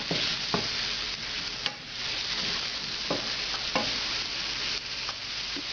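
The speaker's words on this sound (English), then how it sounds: "Put the mushrooms in. Make sure you use a pan that's large enough that you have a single layer of mushrooms." Mushrooms spread in a single layer in a large pan sizzle steadily at close range, broken by several sharp spoon scrapes and stirring knocks, with no talking.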